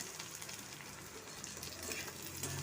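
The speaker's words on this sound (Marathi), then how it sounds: "कांदा घालायचं आणि कांदा लसूणमध्ये फोडणी द्यायचं" Steady crackling sizzle of onion and garlic frying in hot oil, continuous and close, with no voices.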